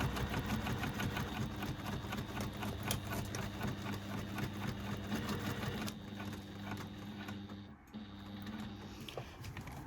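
A sewing machine bastes around the edge of a bag, stitching the exterior fabric, lining and foam layers together, running steadily and close up, with a short pause near the end before it starts again.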